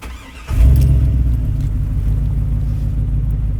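An American Hummer H2 4x4 engine cranks and catches about half a second in, then settles into a loud, steady, deep idle rumble close by, with no talking.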